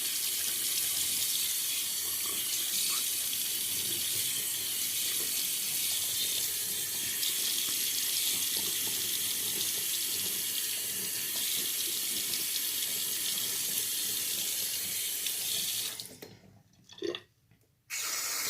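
Tap water runs steadily from a faucet as a Simpsons shaving brush is re-wetted for lathering, a constant close hiss that stops near the end, followed by a few brief splashes and drips.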